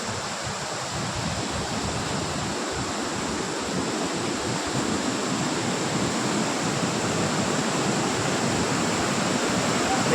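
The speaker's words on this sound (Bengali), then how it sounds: "এটা অনেক বড় ঝর্ণা।" A large forest waterfall in Betla Forest, Jharkhand, roars with a dense, steady rush of falling water that fills the scene, loud and continuous throughout.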